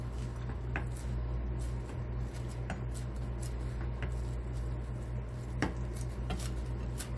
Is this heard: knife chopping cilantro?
yes